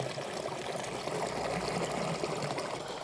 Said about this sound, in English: Looks like they kind of tightened up the waterfall right here to get a little bit more sheet flow or volume coming over there.